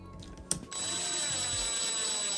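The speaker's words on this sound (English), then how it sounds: "nice and slow with the screw gun" A screw gun drives screws during a Mojave 6s differential rebuild, a sudden sharp burst followed by a steady high whine that continues close and loud to the end.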